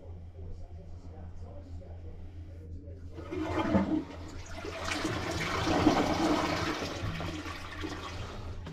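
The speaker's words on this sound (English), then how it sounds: "it wasn't allowing it to get a good flush." A toilet flushes loudly at close range, water rushing and swirling for several seconds after a quiet start, with a low steady background hum; the toilet had a drain blockage and a poorly adjusted flush mechanism.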